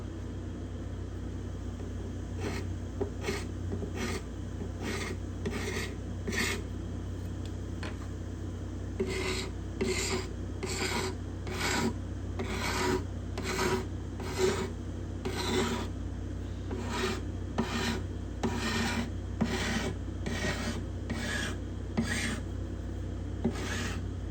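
Close, rhythmic scraping of Indian rosewood binding along the edge of a spruce guitar top, dry raspy strokes repeating steadily over a low steady background hum.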